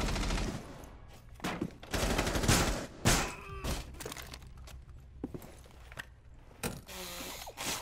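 Quick mechanical clicks and metallic clacks of a weapon being reloaded in Rainbow Six Siege, mixed with bursts of gunfire and sharp game sound effects.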